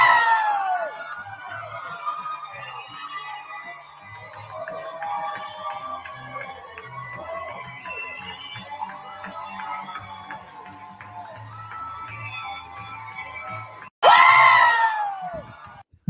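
Small political rally crowd cheering and shouting while a hype man whips them up, a steady wash of voices and yells with tonal calls throughout, then a sudden louder burst of screaming and cheers near the end.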